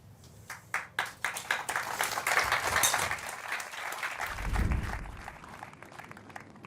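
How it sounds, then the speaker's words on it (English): Applause for golfer Nick Taylor at the Open at Royal Portrush: a few separate sharp claps build quickly into a sustained round of clapping from a small nearby group, then taper off. "And a round of applause for Nick Taylor"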